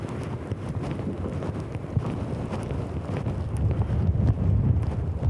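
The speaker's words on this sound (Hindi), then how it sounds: "यहाँ पर हवा कितनी तेज़ है।" Strong wind gusts buffet the microphone at a hilltop shrine perched on a rock above a deep ravine, a constant low rumble that swells louder toward the end, with no voices.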